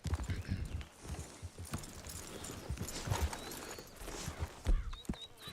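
Horse hooves clop steadily on hard ground at a walking pace in a video game, with faint bird calls in the background.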